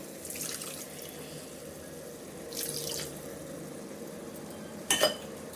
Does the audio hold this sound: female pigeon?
no